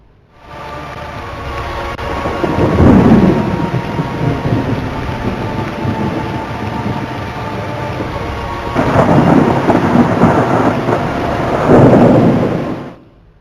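Heavy rain pours steadily while deep rolling thunder swells up in several long, loud rumbles, with no voices over the storm.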